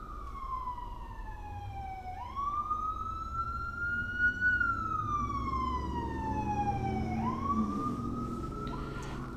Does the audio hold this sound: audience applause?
no